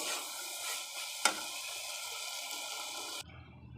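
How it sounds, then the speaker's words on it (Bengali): Tomatoes with turmeric and salt sizzle steadily in a hot pan, a continuous broad hiss with one sharp clink of a utensil partway through, before the frying noise drops away near the end. "লবণ হলুদ দিয়ে টমেটো কুচি দিয়ে এটাকে এখন সুন্দর করে কষাবো"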